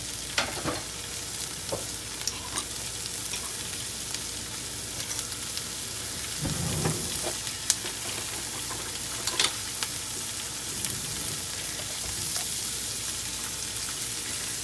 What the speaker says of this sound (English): To this pan, you're going to add 1 can of corn drained, 1 can of black beans rinsed